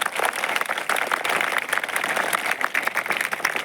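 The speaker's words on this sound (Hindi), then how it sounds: "जोर से तालियां बजाइए।" Audience in a hall breaks into loud, sustained applause after a motivational speech, dense clapping running steadily throughout with no voices rising above it.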